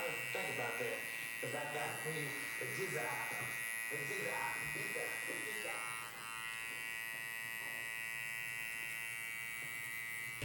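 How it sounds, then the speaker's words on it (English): An electric hair trimmer runs steadily while cutting a bald fade, its constant high buzz carrying on beneath someone talking for the first several seconds and then continuing alone. "I'll just go in with my trimmer and use the corner of my trimmer to try to get this line out."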